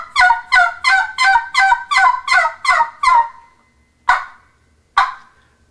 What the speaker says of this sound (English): you can also make the yelp sound a little more hollow, a little more deep with a yawk sound